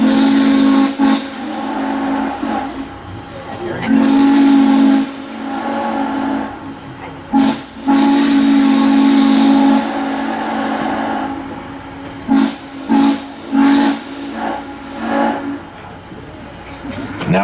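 Steam whistle of Norfolk & Western 611 locomotive, sounding in several long, loud sustained blasts broken by short toots, with crowd voices and hiss in between.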